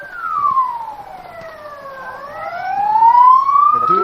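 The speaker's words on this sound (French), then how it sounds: "Ils ont mis un petit coup de sirène" A short siren blast from a Spanish police car sweeps down and back up in a single loud, close wail lasting a few seconds.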